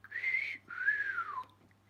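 A person whistling indoors, two short wavering notes with a brief gap between them, fairly quiet and close, with a low steady hum underneath.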